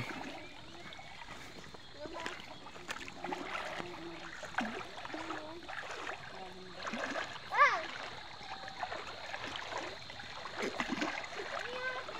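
Water splashes and sloshes as people wade across a river at Taboboan in Odiongan, Romblon, with intermittent splashes and running-stream noise under ongoing conversation.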